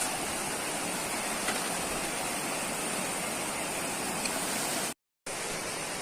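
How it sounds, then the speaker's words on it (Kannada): A stream near Chamadka waterfalls rushes steadily and evenly with a dense, hissing wash of flowing water, cut off by a brief silence near the end. "ಹಾಗೆ ಇಲ್ಲಿಂದ ನೀರು ಹರಿದು ಮುಂದೆ ಹೋಗ್ತಾ ಉಂಟು."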